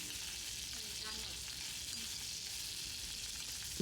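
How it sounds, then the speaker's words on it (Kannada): Capsicum fries in a pan for restaurant-style kadai paneer, a steady, close crackling sizzle that runs unbroken for the whole stretch with no voices over it. "ಈಗ ಕ್ಯಾಪ್ಸಿಕಮ್ ಹುರ್ಕೊತಾ ಇದ್ದೀನಿ."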